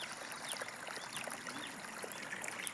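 Water gushes from a solar-powered pump on an overcast day, a faint, steady, even splashing flow with no pauses.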